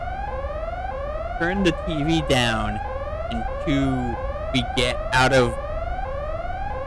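A loud electronic alarm in Xenosaga Episode I wails in steady, repeating rising sweeps throughout, with someone talking over it.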